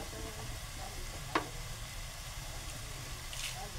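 Crushed, coarsely ground peanuts being stirred into a pan on a cooking stove, a low continuous scraping and faint sizzle with one brief sharp clink partway through, no talking.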